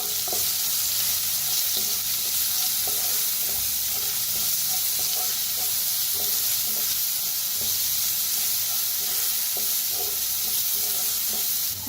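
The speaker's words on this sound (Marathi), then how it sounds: "आता भाजून घेऊया. कढीपत्ता आणि कोथिंबीर टाकलेला आहे." Ground masala with curry leaves and coriander roasts in a pan, an unbroken close sizzle with regular stirring scrapes ticking through it, steady and fairly loud with no talking.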